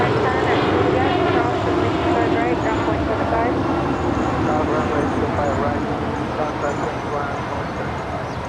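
Airliner engine roar at Los Angeles International Airport (LAX), a loud, steady broadband rumble lasting throughout and fading slightly toward the end, with faint radio chatter mixed in.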